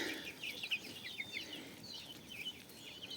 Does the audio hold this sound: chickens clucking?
yes